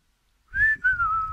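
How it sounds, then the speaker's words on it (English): A short, clear human whistle, a sustained tone that breaks briefly and then resumes slightly lower, over faint low background rumble. "A little whistle."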